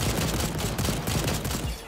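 Dense, continuous bursts of automatic gunfire roar through a dinosaur shooter video game, loud and unbroken for nearly two seconds before easing slightly.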